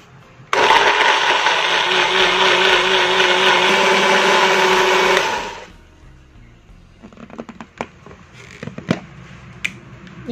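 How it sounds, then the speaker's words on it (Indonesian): A loud electric blender whirs steadily for about five seconds, blending spices with coconut milk, then cuts off, followed by scattered light clinks and knocks. "Kita tambahkan sedikit santan untuk memblendernya."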